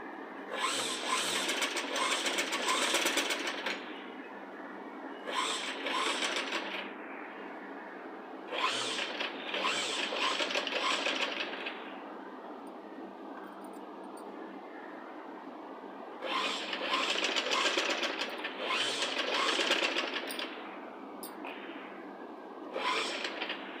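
A sewing machine stitches piping onto the neckline of a child's Punjabi dress top, running in several loud, steady bursts of a few seconds each with short pauses between, close up and without talking.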